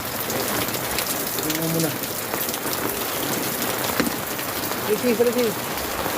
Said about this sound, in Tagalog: malakas talagang ulan na to paparating